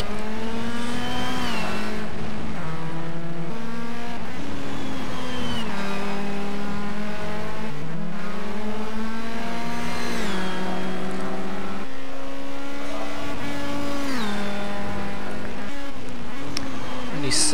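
A race car engine screams at high revs nearby, its pitch climbing through repeated gear changes in a loud, unbroken run that lasts throughout.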